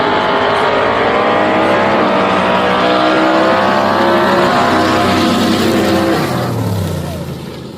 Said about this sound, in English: side by side burnouts